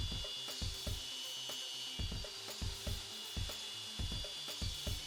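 A wood blank is fed diagonally across a table saw blade to cut a cove: a constant high whine runs underneath repeated rhythmic rubbing, scraping pulses as the wood is pushed through, heard up close with no voices.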